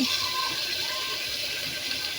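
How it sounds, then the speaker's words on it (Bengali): Water is poured into a cooking pot along with ground spice paste, making a continuous close gushing, splashing wash of sound with no clear speech. "আমি পানি সহ দিয়ে দিচ্ছি।"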